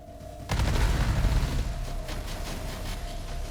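Gauss cannons on warships in the space strategy game Sins of a Solar Empire 2 fire on a heavy cruiser, starting with a sudden loud booming barrage and continuing as a dense, rumbling volley of rapid impacts.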